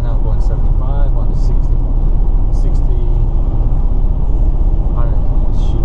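A car cruises at 75 mph on a highway, giving a loud, steady road and engine rumble throughout, with a person talking over the cabin noise.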